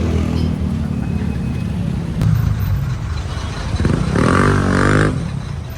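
Street traffic in front of Robinson's Town Mall: cars and motorcycles roar past nearby, with engines swelling and accelerating over a constant low rumble.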